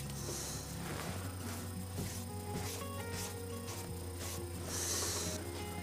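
A rag wipes brake cleaning fluid across the exhaust cover of a 1965 Evinrude 3 hp outboard, making soft, quiet rubbing strokes up close, with a brief brighter hiss near the end.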